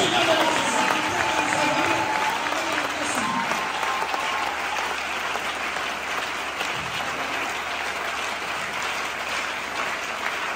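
A church congregation claps at length, with voices mixed into the applause at the start before it settles into steady, dense clapping.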